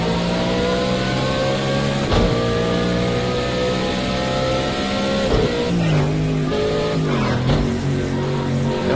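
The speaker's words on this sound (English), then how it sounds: "that tyre squeal noise is really loud compared to everything else" Racing-car tyres squeal loudly in the Project CARS 2 driving game, with whining pitch sweeps riding over a constant revving engine drone and no voices.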